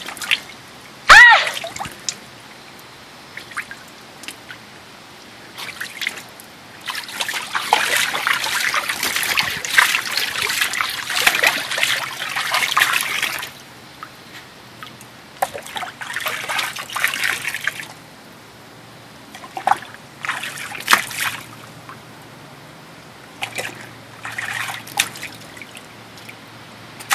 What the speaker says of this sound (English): I'm gonna splash you!